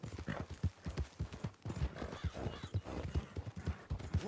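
Steady horse hooves clip-clop in a brisk rhythm, close by, with a brief whinny partway through, in the video game Red Dead Redemption 2.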